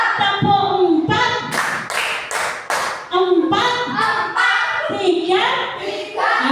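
A group claps in bursts of sharp, unison hand claps, with pauses and a few voices between the rounds.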